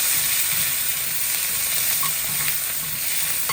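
Cooked chana dal with fresh coriander, stirred in a pot off the heat, gives a soft continuous sizzle with faint scraping and a couple of small clicks, close by and without speech.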